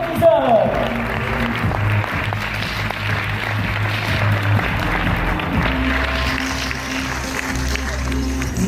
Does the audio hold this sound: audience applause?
yes